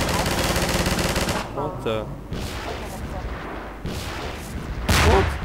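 Rapid automatic gunfire and heavy blasts in Half-Life 2: Episode Two, a dense loud burst at the start and another near the end, with a startled voice speaking between them.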